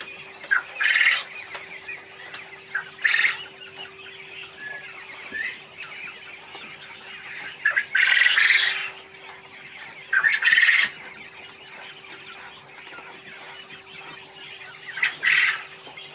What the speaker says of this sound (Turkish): Batuhan, Ahmet'in tavukları ne diyordu?